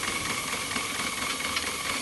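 A 1 1/2 inch gauge live steam model locomotive on test gives off a steady, close hiss of escaping steam that holds even throughout, with no talk.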